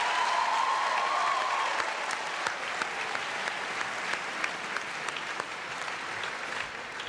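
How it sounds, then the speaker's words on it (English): Audience at a national choir finale gala concert breaks into loud, sustained applause, a dense wash of clapping that eases slightly after the first couple of seconds, with a faint brief voice early on. "give yourselves a round of applause"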